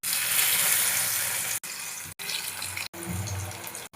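Coated leftover rice snacks frying in hot oil, a dense continuous sizzle broken by a few brief sharp cuts.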